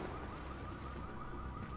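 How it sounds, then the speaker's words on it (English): A car alarm blares in The Division, a loud, steady wailing electronic tone that continues without a break and with no voices over it. "Ooh, the car alarm goes off."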